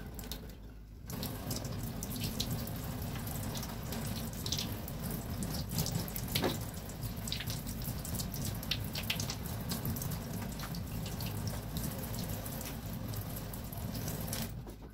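Tap water runs steadily into a sink while fresh serpentina herb leaves are washed, a continuous close splashing rush with brief shifts as the leaves move under the stream.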